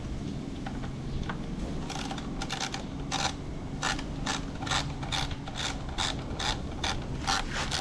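A ratchet loosening a bolt on a Ninja ZX-4RR motorcycle during maintenance, giving a steady run of quick, evenly spaced metallic clicks that grow crisper, close up, over a constant background hum.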